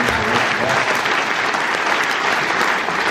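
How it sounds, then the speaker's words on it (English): A songwriters' circle audience in Saskatoon gives dense, steady applause that fills the room at an even level from start to finish, with no voices rising above it. "So give him a round of applause for taking"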